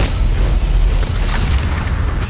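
Frag grenade and barrels exploding in the Halo game Tarasnabad on Master difficulty, a loud, dense rumbling blast that roars continuously for a couple of seconds with no speech.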